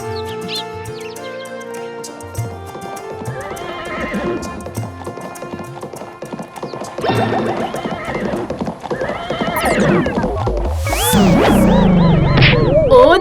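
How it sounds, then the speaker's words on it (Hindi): A horse, given from a king's stable, clops steadily, then neighs and whinnies loudly near the end, with faint birdsong in the background and no speech. "ये देख मेरा घोड़ा।"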